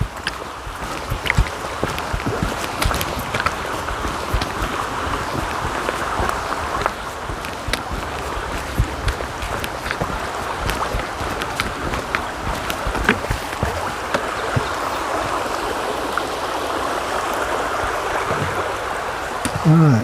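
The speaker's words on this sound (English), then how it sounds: "Alright, another little river here." A small river in the Appalachian mountains rushes steadily and fairly close throughout, a continuous broad wash of flowing water with no talk over it.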